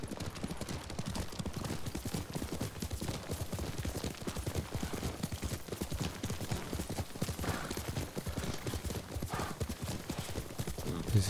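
Horse hooves clip-clopping at a steady galloping rhythm while riding in Ghost of Tsushima, continuous and fairly close, with faint background game sounds.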